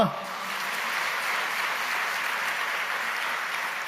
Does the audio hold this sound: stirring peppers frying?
no